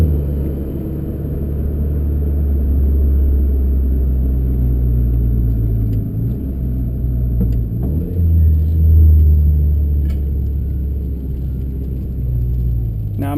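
A Mitsubishi Evo MR with a TC-SST dual-clutch gearbox drives along, its engine a steady loud rumble with slight dips and swells as gears are changed by paddle, heard from inside the cabin.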